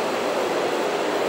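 A São Paulo monorail train passes close by, giving a steady, loud rushing rumble with no break.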